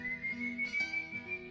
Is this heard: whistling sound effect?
yes